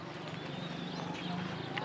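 Horse hooves clip-clop at a steady walking pace close by, while someone talks over them throughout.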